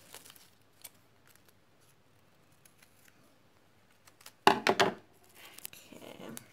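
A few quick, crisp scissor snips around the middle, following quiet scattered clicks and light handling noises, with faint rustling afterward.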